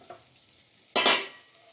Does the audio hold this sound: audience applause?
no